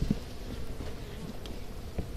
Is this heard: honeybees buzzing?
yes